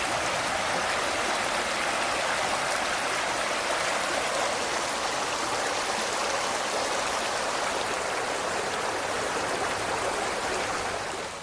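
Huckleberry Creek rushes along near a mountain hiking route, a constant broadband roar of flowing water heard up close and loud, without pause, with no voices over it.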